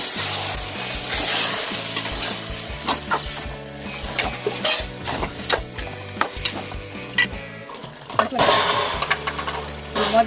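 Chicken biryani base of chicken and fried onions sizzles loudly as yogurt goes in, with rhythmic stirring and scraping in the pot and a brief voice at times.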